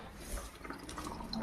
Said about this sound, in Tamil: முதல்ல சோப்பு தண்ணி அவ்வளோ திறக்கிறேன்